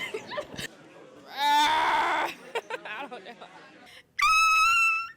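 A person imitates a raptor's call with a shrill, screeching cry, heard as two loud bursts separated by brief talk and a short laugh.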